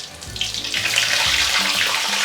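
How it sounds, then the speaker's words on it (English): Pong pong prawn fritters deep frying in medium-hot oil, a loud continuous hissing sizzle with bubbling, close and steady, with low clunks underneath and no talk. "use this medium heater oil to deep fry the prawn for approximately 3 minutes plus minus."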